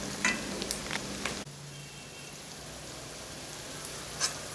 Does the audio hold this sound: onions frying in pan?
yes